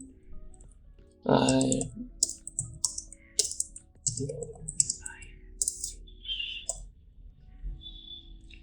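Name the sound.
typing on a computer keyboard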